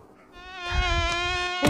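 A thin, high-pitched mosquito whine swells in close and holds steady for a moment, buzzing alone with a faint bump at the end.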